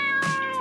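Momo the cat in Dave the Diver gives a short in-game meow, a single close, clear call with a tonal, voice-like quality.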